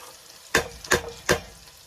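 Three distinct scraping strokes of a spoon stirring rice in a pot during braised oil rice cooking, evenly spaced over a faint background hiss, close and fairly soft, no talking.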